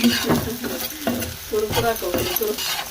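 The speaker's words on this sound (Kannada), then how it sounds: "ಇಲ್ಲಿ ಕರ್ಚಿಕಾಯಿ ಚಲೋ ನಂಗೆ ಹುರಿದು ರೀ ಕೆಂಪಗಾಗಿ ಸ್ವಲ್ಪ ಎಣ್ಣೆ ಹಾಕಿ" Karchikai frying in a little oil in a pan, a steady sizzle with repeated scraping stirs at a close, fairly loud level and no talk.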